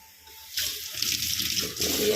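A tap opens and water gushes steadily into a basin, fairly close and loud.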